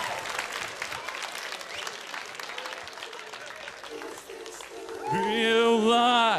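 A studio audience at X Factor Bulgaria breaks into sustained, dense clapping and cheering, which fades as a solo singing voice enters clearly near the end.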